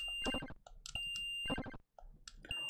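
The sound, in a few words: high-pitched whistle sound from Space Invaders video game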